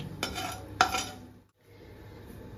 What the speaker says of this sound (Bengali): তো এগুলো উল্টি পাল্টিয়ে ভালো করে আগে ভেজে নেব।